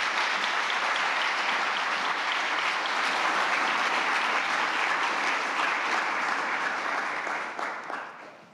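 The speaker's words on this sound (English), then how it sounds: "Let's welcome her with a big round of applause." A seminar audience at the G20 in Fukuoka applauds to welcome IMF chief Christine Lagarde as keynote speaker, a dense sustained clapping of a large hall that fades out in the final second.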